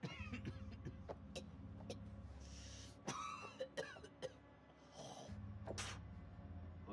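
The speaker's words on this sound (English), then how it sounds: "That's a nasty cough." A character in the video game House of Ashes coughs harshly a few times, with rough throat clearing in the middle, over a low droning background hum.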